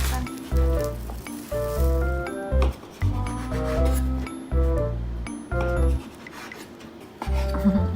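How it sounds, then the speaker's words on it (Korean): A knife saws through sliced sandwich bread in repeated back-and-forth strokes, a rough rasping with intermittent scraping and clinks against a board, in a busy indoor setting with faint voices underneath. "식빵 자르고 있습니다"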